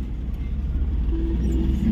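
A vehicle engine starts and idles for a road trip, a steady low rumble with faint road and traffic noise around it and no clear talk.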